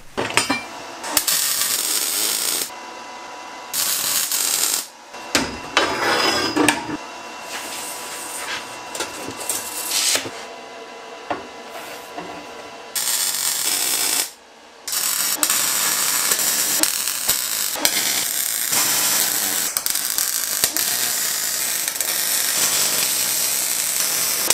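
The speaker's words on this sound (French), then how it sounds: "je t'ai filmé uniquement la soudure" Welding a metal railing, a continuous crackling hiss with harsh mechanical buzz that cuts out in short pauses and restarts, loud and close throughout.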